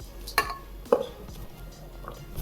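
Two sharp metallic clinks ring out close by, a tin container of dhokla batter set down inside a pressure cooker, followed by quiet kitchen shuffling.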